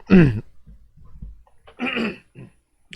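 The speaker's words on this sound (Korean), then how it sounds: "일단은 기침 소리가 들어간다는 걸 양해를 좀 부탁드리겠습니다." A person coughs sharply once, then after a pause clears the throat with a second rough, voiced burst, close to the mic in a quiet room during a lecture.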